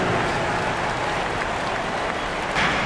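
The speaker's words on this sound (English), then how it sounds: "Give a big round of applause to your Blazer dancers." Dense crowd applause and cheering in an NBA 2K23 basketball arena for the Portland Trail Blazers dancers, a loud continuous roar with no breaks, swelling slightly near the end.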